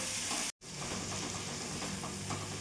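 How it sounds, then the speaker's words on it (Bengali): Spice masala frying in oil in a pan for a snakehead fish curry, a steady loud sizzle close by with stirring texture, broken by a brief silent gap. "এখন ভালো করে মশলাটা আমি কষিয়ে নেব।"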